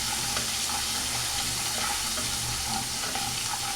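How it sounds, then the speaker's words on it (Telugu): A tempering of garlic and spices fries in hot oil for mango pickle, giving a dense, steady sizzle with occasional stirring scrapes, close and continuous. "ఒక 2 నిమిషాలు అయితే ఫ్రై అవ్వనిద్దాము."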